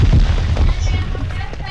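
An explosion attack effect in a card battle video game, a heavy booming blast at the start that rumbles on and slowly fades.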